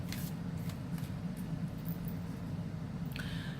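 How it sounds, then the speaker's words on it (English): Tarot cards being shuffled, a steady papery riffle with a few crisp bursts of cards flicking together, close up and without speech. "They still seem to shuffle pretty well."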